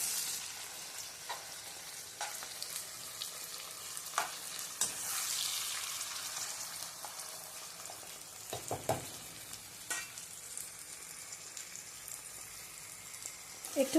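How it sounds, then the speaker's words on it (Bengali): Onion, garlic, chili and capsicum frying in a pan for chilli chicken, a continuous crackling sizzle with scattered spatters and periodic scraping stirs, a louder hissing surge partway through, no talk. "চিলি, ক্যাপসিকাম সবগুলো দিয়ে এবার আমি কিন্তু ফ্রাই করে নেব।"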